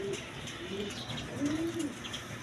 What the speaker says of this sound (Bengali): দর্শক এইখানে এক পেয়ার গররা কবুতর আছে